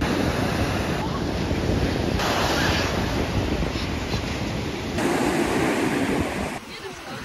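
Pacific Ocean surf rolls onto a volcanic sand beach in Kamchatka in a continuous loud roar, heavy wind buffets the microphone, and a voice speaks briefly under the noise.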